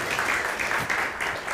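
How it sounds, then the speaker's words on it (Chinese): A church congregation applauds during an Easter worship service, a short burst of continuous, fairly soft clapping that fills the room evenly with no talk over it. "咱搁一届来鼓掌欢迎正传兄弟伫咱的中间。"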